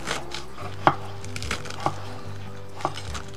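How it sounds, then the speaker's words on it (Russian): A knife chops sorrel and other greens on a board, giving three sharp, evenly spaced cuts over a low hum, with faint kitchen noise and no talk. "а я сейчас буду резать зелень"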